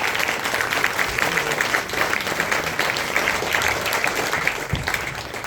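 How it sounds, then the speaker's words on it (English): Steady, dense applause from an audience at a Nottingham poetry night, many hands clapping together at an even level throughout without a break. "Round of applause one more time for the first half"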